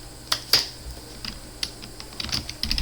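Close, sharp keystrokes on a computer keyboard tap out a console.log line in a Node.js setup on Windows 11, arriving as scattered single clicks and short quick runs against a quiet background.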